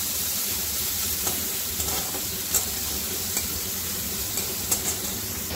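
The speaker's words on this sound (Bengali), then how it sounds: "একটু মিডিয়াম সাইজের পেঁয়াজ নিয়েছি। এটাকে একটু হালকা করে ভেজে নেব লাল করে।" Sliced medium onions sizzle steadily in hot oil for a chicken and cauliflower curry, with a dense, even hiss and a few soft clicks of stirring throughout.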